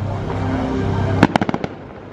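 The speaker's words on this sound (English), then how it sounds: "you can see the fireworks really well from way back here" Epcot fireworks show watched from far back near Soarin', with a low crowd murmur that gives way to a loud burst followed by a rapid series of sharp booming pops that echo and fade.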